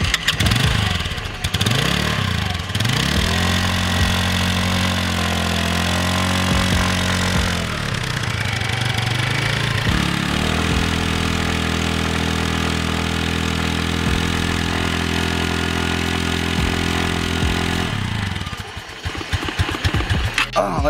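A 2021 ItalicaMoto Formula 150cc scooter starts up and idles with a steady, close engine hum, its pitch dipping and rising with a few revs before it is switched off.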